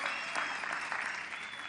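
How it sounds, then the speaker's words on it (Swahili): Steady crowd applause for MCAs in Nyandarua at a memorial ceremony, a continuous dense wash of clapping heard from within the gathering. "haya wapigiwe makofi,"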